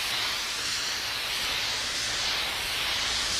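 A spray gun mists a light tone coat of stain over a wood finish, producing a continuous, close, airy hiss that swells slightly and holds steady throughout without any voices.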